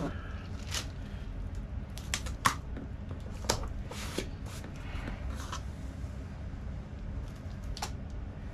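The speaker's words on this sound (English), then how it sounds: "This is because I used the wrong tape dispenser." Packing tape pulled from a dispenser and pressed onto a resale shipping package, heard as several short, close crackling rips and taps scattered over a steady low background hum.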